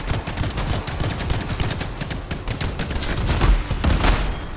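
Sustained machine gun fire from the video game Anthem, a dense continuous stream of rapid shots over roughly four seconds, loud and close, growing heavier toward the end with no talking.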